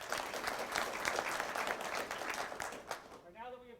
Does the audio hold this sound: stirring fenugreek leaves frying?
no